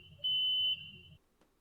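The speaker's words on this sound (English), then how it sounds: "And then here's just universal door beeps here." A single steady electronic train door beep in Minecraft, sustained for about a second over a low hum, then quiet with a faint click.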